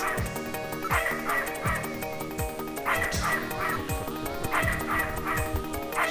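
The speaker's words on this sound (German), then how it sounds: "Der Hund bellt." A dog in the Snatcher video game barks repeatedly in sharp, rhythmic yelps over a continuous backing of game music, with no talk during the clip.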